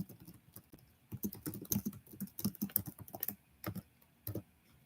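Clattering keystrokes on a computer keyboard, fast irregular bursts of typing with a few brief pauses, close and clear with no voices.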